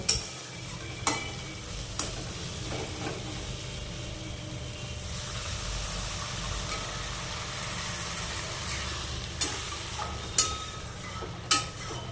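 An onion-tomato masala fries steadily in a pan as water is poured in, giving a continuous sizzle and bubbling with occasional sharp clinks of a spoon stirring against the pan.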